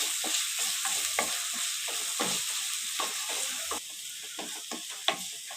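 Ginger garlic paste fries in a pan over low flame for mamidikaya chicken, a steady close sizzle broken by repeated scraping stirs of a spatula, with no voices.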